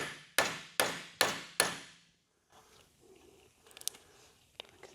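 A hammer strikes a door hinge pin on a second-generation Chevrolet Camaro: four loud, evenly spaced metallic blows ringing out briefly, then a quieter stretch of faint shop rustling and small clicks.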